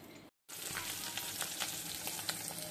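Hilsa fish frying in oil with salt and turmeric, a soft, even sizzle with faint crackles that cuts out briefly near the start and then runs steadily on its own.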